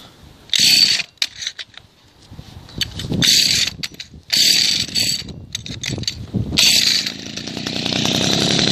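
A small two-stroke engine runs in loud bursts, revving and dropping back between short gaps while its fuel-air mixture screw is turned, with mechanical rattling and clicks in the pauses.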